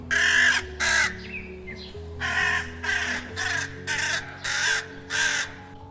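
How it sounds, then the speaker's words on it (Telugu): A crow caws repeatedly in a steady series of harsh, loud calls, close by with little else around. "ఒక కాకి కూడా కావు కావు అనడం గమనించాడు"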